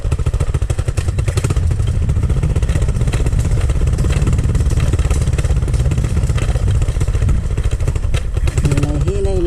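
A motorcycle ridden along a rough road shortcut, its engine droning loud and steady with rattling and clattering from the bumpy surface, close to the rider, with voices in the background.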